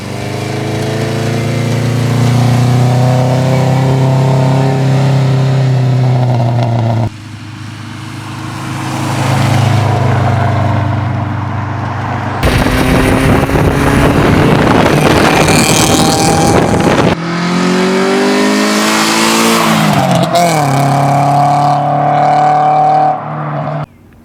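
A car with freshly painted tire lettering drives past for rolling shots, its engine and road noise loud and continuous, rising and shifting as it passes near, with wind buffeting the microphone.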